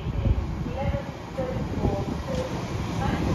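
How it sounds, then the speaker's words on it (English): A Class 323 electric passenger train rolls in on the West Coast Main Line with a low rumble and soft wheel noise, brief squeals rising now and then, wind buffeting the microphone. "Right, here comes 323."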